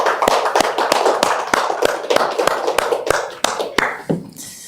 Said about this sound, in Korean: 우리 하나님 앞에 감사의 박수를 한번 올려드리겠습니다